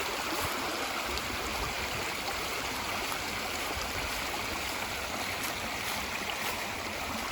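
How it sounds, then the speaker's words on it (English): Water from a cistern rushes steadily through a drainage trench outdoors, a continuous broadband flowing wash with no pauses and no voices. "Yep, the trench is working. Diverting the water"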